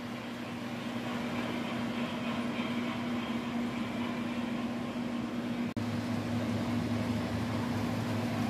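A Rivarossi Chesapeake and Ohio Hudson model locomotive runs with a steady, continuous mechanical hum and whir, close and fairly loud, with a brief dropout partway through and no talking.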